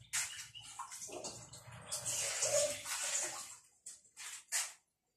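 Hot water poured from a kettle or teapot while making Moroccan green tea with mint, a steady splashing stream lasting several seconds, close and fairly loud, then a few short pours at the end.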